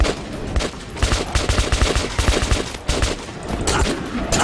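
Rapid automatic gunfire from the video game Metro 2033 rattles on continuously and loudly, a dense stream of sharp cracks with no pause.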